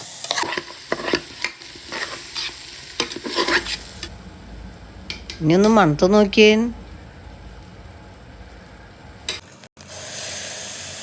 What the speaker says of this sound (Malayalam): ഈ മസാലയും അരിയും കൂടി നന്നായിട്ട് ഇളക്കി മിക്സ് ചെയ്യും